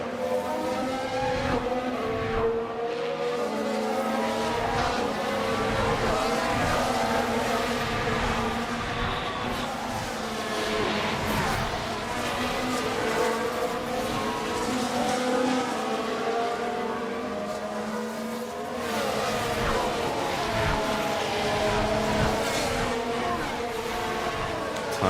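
Formula 1 cars race at the Las Vegas round of F1 Manager 24, engines whining steadily and loudly with cars sweeping past in waves, while a commentator talks over the track noise.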